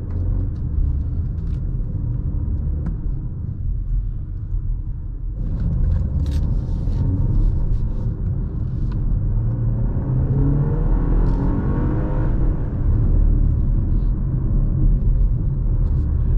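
The engine note of a 2024 BMW X2 M35i heard from inside a well-insulated cabin while driving, a steady low rumble that swells and revs up in smooth pulls, with little outside noise.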